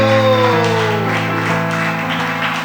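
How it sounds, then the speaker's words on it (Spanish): A church congregation applauding, a dense wash of clapping under sustained organ or keyboard chords that carry throughout. "Dele fuerte el aplauso al Señor."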